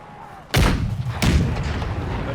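Artillery guns firing canister shot in the video game Empire Total War 2: two heavy, booming blasts about half a second apart, loud and near, each followed by a rumbling decay over battlefield noise.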